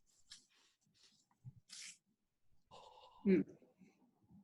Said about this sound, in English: the smell of it is making me sneeze